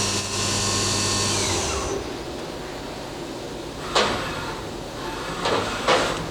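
A Fadal VMC 4020FX vertical machining center traverses its axes, with a steady motor whine that fades after a couple of seconds, followed by quieter running and a few short sharp clunks and hisses.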